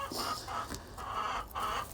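Chickens cluck nearby in a few repeated bursts, with short pauses between the calls.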